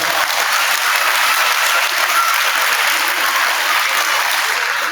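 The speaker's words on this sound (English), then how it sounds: "Let's give Miss Morris's class a round of applause." Steady, loud applause from an audience at a 4th grade school awards day, a dense patter of clapping hands that holds evenly throughout with no voices over it.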